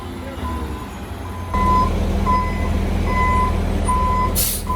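A concrete truck, painted for breast cancer awareness, reverses with a loud, steady engine rumble and evenly spaced backup beeps, plus a sharp hiss of air brakes near the end.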